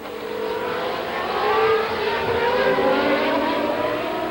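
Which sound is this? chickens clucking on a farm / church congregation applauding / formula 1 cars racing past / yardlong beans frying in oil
formula 1 cars racing past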